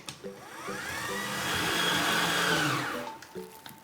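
An electric mixer whirs through banana bread batter, rising to a steady loud hum for a few seconds then winding down, with short clicks and bumps at the start and end.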